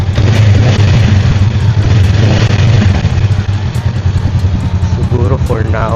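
A Honda Rebel motorcycle idles on its stock exhaust, a steady, close, loud low engine rumble with a slight irregular pulse throughout and a little faint background noise near the end.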